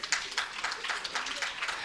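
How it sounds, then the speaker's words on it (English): A seated audience at a university faculty research day session claps briefly, a soft, rapid patter of applause that stays faint and short. "You deserve a round of applause."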